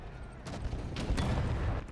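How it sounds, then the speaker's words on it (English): Artillery volley in the video game Men of War: Assault Squad 2, a couple of heavy booming blasts over a continuous low rumble, loud and close with a sustained roar between impacts. "let's check out this artillery. We get a good volley out."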